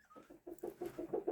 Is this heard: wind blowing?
no